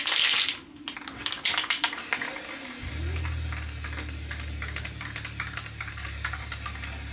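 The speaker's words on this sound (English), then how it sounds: "just spray painting type stuff." A spray can puts primer and semi-gloss black paint on an arcade control panel overlay. It gives a close, sustained hiss after a few brief bursts, and a low hum runs underneath.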